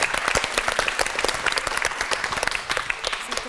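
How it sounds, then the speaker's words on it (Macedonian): Applause from a school audience rewarding a correct quiz answer, a dense burst of many hands clapping close and loud throughout, with no talk over it. "И го доби заслужниот аплауз."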